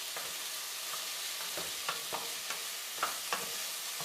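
Zucchini browning in a pan for homemade paella gives a soft, even sizzle, broken by a few light scrapes and taps as the pieces are stirred.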